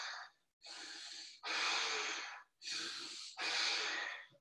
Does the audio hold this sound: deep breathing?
yes